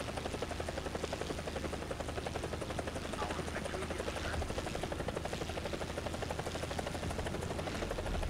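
Helicopter rotor chopping steadily and loudly throughout, heard inside a War Thunder match, with a continuous dense whine and thrum and players talking over it.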